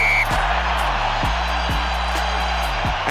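Stadium crowd in Wellington before a Rugby World Cup 2011 quarterfinal kickoff between Ireland and Wales, a massed roar with rhythmic chanted counts rising from the stands, a loud, distant wash of voices.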